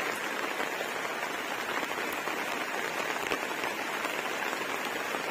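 Steady rain falls outside a house, a dense, even hiss of drops hitting surfaces that continues unbroken and fairly close, with no voices.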